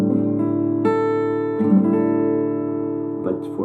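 Guitar minor barre chord fretted with the index finger across all strings rings out cleanly, restruck a few times with sustained overlapping tones and no talking.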